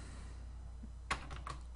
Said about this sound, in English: You'd just start typing